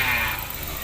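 A Suzuki Big Eye motorcycle engine idles after an oil flush, a short, close, steady low mechanical rumble with a slight dip in level partway through.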